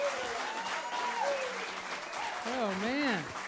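A live music show audience gives sustained applause welcoming the band, with cheering voices and a whoop rising over the clapping.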